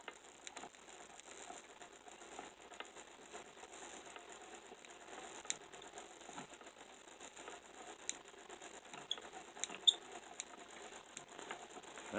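Hand-cranked electrostatic charging machine turning with a faint, continuous ratcheting click, quiet and close, with occasional small taps and no talking.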